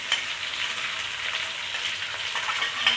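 Ginger, lime leaves and bay leaves fry in hot oil in a pan, a steady bright crackling hiss, close and even throughout, with no voices.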